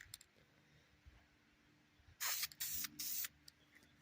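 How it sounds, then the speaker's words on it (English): Three short hissing bursts from a spray can of primer, close and fairly loud, separated by brief pauses in an otherwise quiet room. "We'll see if we can't get a light coat sprayed on."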